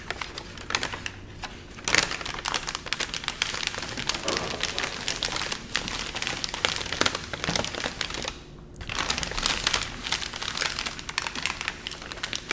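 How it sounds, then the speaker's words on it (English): Hands slowly smoothing and crinkling a sheet of parchment paper close up, dense crisp crackling and rustling almost continuously, with a brief pause near the middle before it resumes. "So this is some parchment paper."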